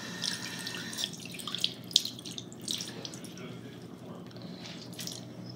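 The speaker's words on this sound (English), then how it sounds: "Now I need to wash my face." Tap water runs steadily into a sink during face washing at bedtime, with small splashes and drips near and moderately loud, fading slightly toward the end.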